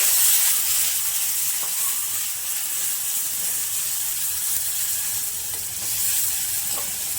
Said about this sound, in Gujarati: અને આ મેં દહીં લીધું છે તો આપણે દહીં નાખીશું. એકદમ મિક્સ કરી દેવાનું.